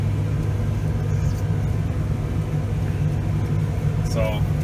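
Tractor driving across a farm yard with its front loader raised, a steady loud low engine rumble and drone continuing throughout with faint higher noises near the end.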